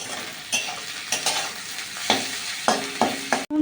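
Onions fry with salt in a pan, a steady close sizzle broken by repeated scraping stirs of a utensil against the pan.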